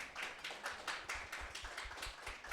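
Clapping from men in a church congregation during a Women's Day greeting, a moderately loud, steady patter of many hands with faint rhythmic peaks, no voices over it.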